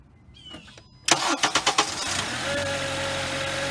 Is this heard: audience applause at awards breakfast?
no